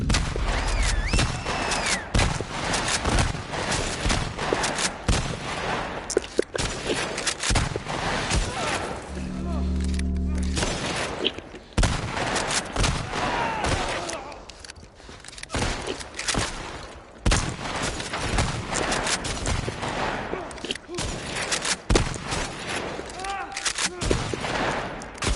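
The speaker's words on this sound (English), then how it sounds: "Who the fuck is shooting at me?" Dense bursts of gunfire from The Last of Us Part II, rapid volleys and single shots crackling loudly and almost continuously for the whole stretch, with a brief lull midway and someone talking over the action.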